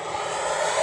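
An FMS Avanti 90mm electric ducted-fan RC jet makes a loud, steady roar at high throttle during a full-speed pass down the runway. The whine holds close and unbroken and grows slightly as the jet nears.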